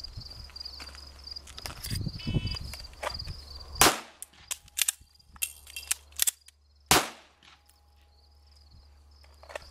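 Handgun shots crack sharply at an outdoor shooting range, a few spaced reports five yards from the target, with quieter clicks and shuffling in between.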